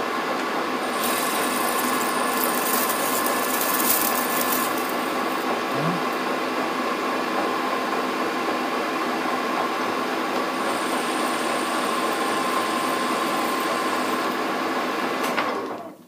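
Metal lathe turning a shoulder on a small part for vacuum cleaner wheels, a steady whining hum with high tonal cutting squeal across the whole stretch, fading out at the end; no speech.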